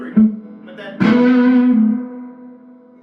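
An electric guitar played through a Benson amp with its reverb up: a soft plucked note, then a louder note that rings and lingers with a long reverb tail fading out, with no talk over it.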